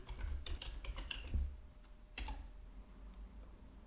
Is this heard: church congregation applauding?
no